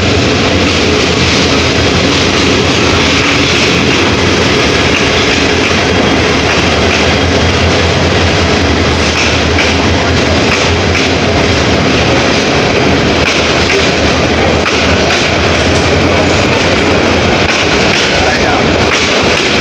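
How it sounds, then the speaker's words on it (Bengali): A train pulls into a station at night on a trip toward Mohanganj, a loud, steady rumble of rolling cars and engine that fills the whole stretch while a crowd murmurs and people talk nearby. "ট্রেনও আইসা পড়ছে"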